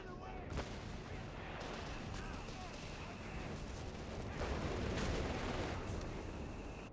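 Gunfire and heavy weapon blasts ring out in a Company of Heroes 3 battle as enemy armor opens fire, with sharp reports and booms over a dense battle din and in-game voices.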